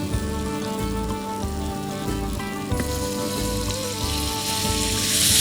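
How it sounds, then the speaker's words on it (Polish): Steady sizzling and crackling of wild boar meat frying in a hot pan for ragu, continuous and close, with faint clinks and a low hum underneath. "Na tą samą patelnię niczym nie przeszkadza, przesmażymy mięso."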